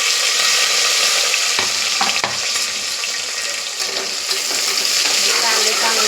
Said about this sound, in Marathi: आपण ह्या मिरच्या टाकू आणि नंतर उभे चिरलेले कांदे टाकून